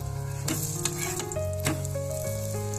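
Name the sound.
paratha with onion and semolina frying in oil in a wok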